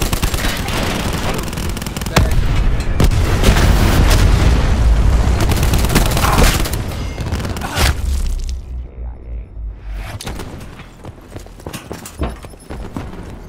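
Hellstorm missile strikes in Call of Duty: a loud, sustained barrage of booming explosions and rattling gunfire, dense and close for several seconds before thinning into sporadic shots.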